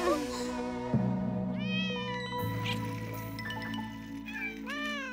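Kittens meowing in an Italian cartoon, several high rising mews one after another over background music, close and clear.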